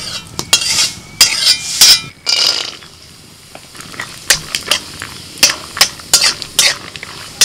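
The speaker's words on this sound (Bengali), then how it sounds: "প্রথমে 2 চামচ পোস্তকে একটু শুকনো কড়াইতে ভেজে নিলাম।" Poppy seeds dry-roasting in a dry wok as a spoon stirs and scrapes, giving repeated sharp clatters and scratches in irregular bursts with quieter pauses between, close by and without talk.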